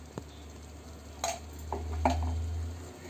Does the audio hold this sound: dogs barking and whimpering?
no